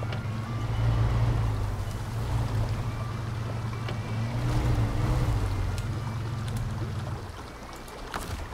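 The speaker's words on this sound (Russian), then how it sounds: "вот зашумел этот трактор уже сдалека" A distant tractor engine in the SnowRunner video game on a rainy hard-mode run, giving a steady low droning rumble throughout that eases off slightly near the end, with wind or water-like noise layered over it.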